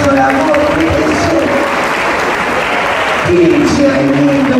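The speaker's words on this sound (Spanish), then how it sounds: "Fuerte el aplauso a la voz de eso" Applause from a live audience at a cultural arts centre in Burzaco, steady and dense through the whole stretch, with a host's voice and murmurs from the crowd coming through faintly underneath.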